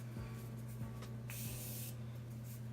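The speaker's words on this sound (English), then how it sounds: "I would use like a beauty sponge, and I'm gonna spray it." A single short hiss of a spray bottle misting a beauty sponge at close range, brief and soft against a quiet low hum.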